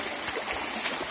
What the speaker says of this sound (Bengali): এই যে পাথরগুলো কত সুন্দর ঝর্ণার পানিগুলো নামতেছে